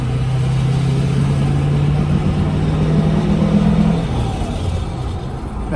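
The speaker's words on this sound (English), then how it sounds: "let's listen to the exhaust on the truck," A truck's exhaust rumbles with a steady low engine drone that rises in a rev, then eases off near the end, loud and close with no talking.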